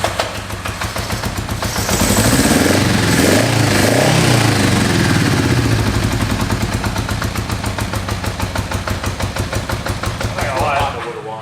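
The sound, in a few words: old flooded Honda motorcycle engine running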